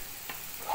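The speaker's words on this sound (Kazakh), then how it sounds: "Одан кейін жақсылап араластырып қуырып аламыз." Onion and cabbage stirred and frying in a pan for a fried pirozhki filling seasoned with salt and pepper: a brief, soft sizzle with a light scrape of stirring, close and quiet.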